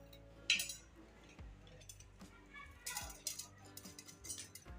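A knife cuts red chillies on a board for chutney, giving a few faint, sparse clicks and taps with small clinks spread over several seconds.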